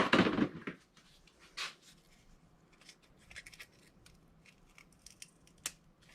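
Scissors snip through foam for a simple tree swing, one loud crunchy cut at the start, then a second cut near the middle, with softer rustles and small handling clicks close by.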